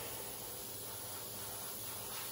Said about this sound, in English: start spraying the nose